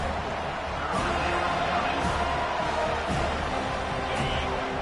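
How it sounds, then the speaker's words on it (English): A college football stadium crowd roars steadily and swells louder on third down, a dense wall of distant cheering that stays sustained throughout. "Decibels rising as the crowd gets behind this defense on 3rd down."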